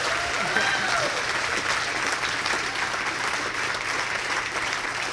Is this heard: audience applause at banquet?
yes